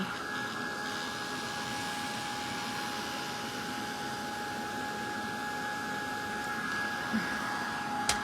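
A heat tool blows a steady whirring, hissing stream of air to dry a stamped craft project, a constant close drone with a faint tonal whine, alone and without talking.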